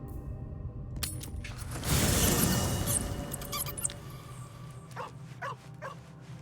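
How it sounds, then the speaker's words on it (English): A dog in Baldur's Gate 3 gives a few close barks, followed by a burst of louder broadband noise and then scattered short yips and clinks. "Bark, bark, bark, bark."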